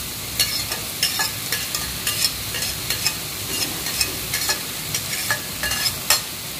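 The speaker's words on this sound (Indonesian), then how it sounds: "Aku aduk-aduk lagi sampai merata." A spatula stirs petai, bean sprouts and tempe in a frying pan, making quick, rhythmic scraping strokes over a soft background sizzle, close and fairly loud with no talking.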